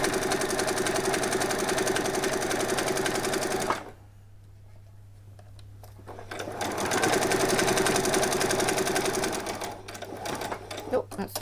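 Sewing machine stitching doll bedding, running in a loud, steady whir that stops briefly before starting again and continuing, with a pause near the end.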